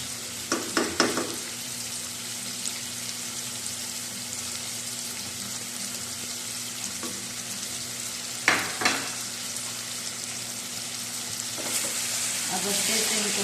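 Chicken pieces with cumin and salt fry in a pan with a steady, moderately loud sizzle, marked by a few sharp stirring clatters near the start and middle.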